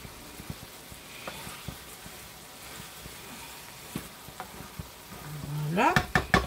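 A spoon scrapes and stirs Polish letcho stew in a pan, soft intermittent clinks over a low sizzle, ending in a brief louder burst of clattering and rising tones.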